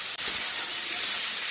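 Shrimp sizzling lightly in hot oil in a pan, a steady close hiss of frying with no break.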